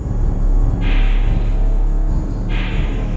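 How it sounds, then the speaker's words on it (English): A muffled, low-passed FL Studio beat intro with reverb thumps along with heavy, dull bass and a soft, washed-out top, loud and continuous. "for the intro of this beat, I made it sound very muffled"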